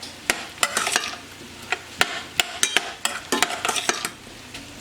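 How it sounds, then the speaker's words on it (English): Green pepper and yellow onion are stirred in melted butter in a pan, producing a soft sizzle under repeated close scraping and clinking of a utensil in an irregular rhythm. "I have 1 green pepper and 1 medium yellow onion here, and I'm just going to add that into the butter"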